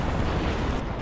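A loud close explosion in a tank video game, a single deep rumbling boom that fills the whole second without pause.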